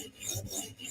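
A knife blade is drawn across a Hapstone RS sharpening stone during minor profiling at 17 degrees, making two or three close, steady raspy strokes with no voice over them.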